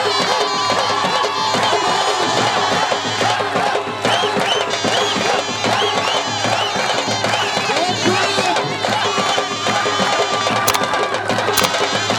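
A crowd at the Altit Fort cultural festival cheers and shouts, with scattered clapping under loud, continuous voices and chatter, busy and close throughout.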